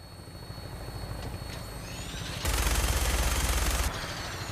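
An aircraft in flight in the video game Fallout 4 gives a steady rotor-like engine drone, with a louder, rapid chattering burst of machine-gun fire in the middle before it drops back to the hum, with no talk.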